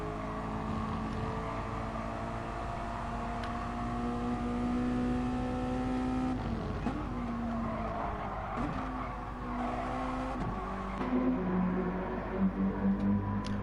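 Mazda MX-5 race cars lapping the Sardegna circuit, their engines droning steadily with pitch that dips and climbs through braking and gear shifts, plus brief tire squeals toward the end.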